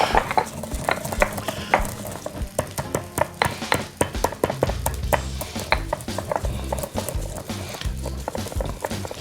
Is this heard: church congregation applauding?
no